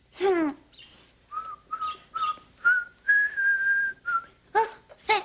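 A person whistles a series of short and longer tonal notes, some sliding and some held steady, with pauses between them, close and alone, in a gentle scene where someone offers to teach a bird to whistle.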